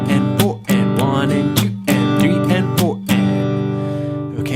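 An acoustic guitar is strummed in a basic percussive pattern, with ringing chords broken by sharp muted hits in a steady rhythm, close and loud.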